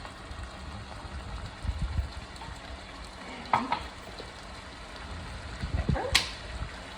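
Cuban picadillo sizzles quietly in a pan with occasional scraping stirs and clinks of a utensil, a low steady frying hiss throughout.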